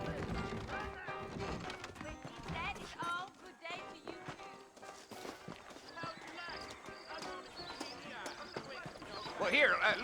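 Horses clip-clopping on a trail in the Western video game Red Dead Redemption, steady hoof beats running throughout beneath music and in-game voices talking.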